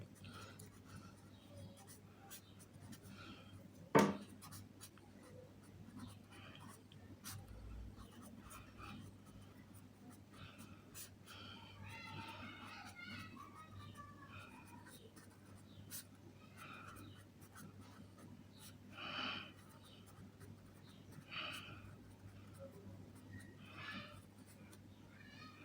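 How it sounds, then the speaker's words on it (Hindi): Pen scratching across paper while a maths problem on triangles is written out, quiet, with scattered short strokes over a steady low hum, and one sharp knock near the start. "तो यहाँ पे लिखते हैं हम लोग"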